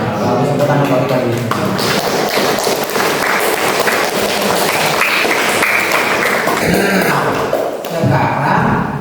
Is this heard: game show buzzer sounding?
no